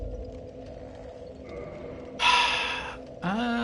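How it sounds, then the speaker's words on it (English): Sleeping characters in a video game snore softly under a steady low drone, with one louder breathy snort midway and a rising tone near the end. "Sounds like they're sleeping over there, like they're snoring"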